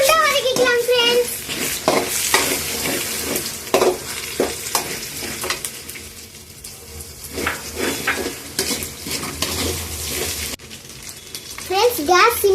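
Turmeric and salt sautéing in a hot pan on high flame for homemade mixed fried rice, a steady loud sizzle with repeated metal spatula scrapes and stirs, a voice briefly audible in the background.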